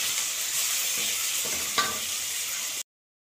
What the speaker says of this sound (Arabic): هوريكم البصله وهي بتتحمر مع مع السكر